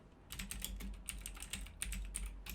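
Quick bursts of computer keyboard typing, close and fairly quiet, in short irregular runs of keystrokes with brief pauses between them.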